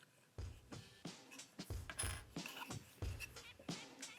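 An Allen wrench turns small socket head screws in a handmade wooden wallet, giving quiet, close metallic clicks and light scraping taps in short repeated bursts with no talking.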